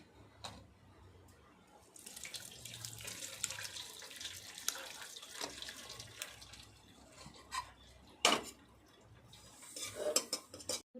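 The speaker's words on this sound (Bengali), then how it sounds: "এখানে একটা গামলা নিয়েছি আর একটা ছাঁকনি নিয়েছি একটা পাতলা কাপড় ভালোভাবে ভিজিয়ে নিয়েছি দিয়ে এর মধ্যে আমি ঢেলে দেবো" Curdled milk for rasgulla goes from a pot into a wet, thin cloth-lined strainer set over a bowl, splashing and trickling with clinks of metal vessels and a sharp knock, fairly close and not loud.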